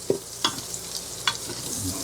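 Butter sizzles in a Ninja Foodi pot with beef and bacon, a steady soft frying hiss broken by a few sharp clinks and scrapes of a utensil against the pot.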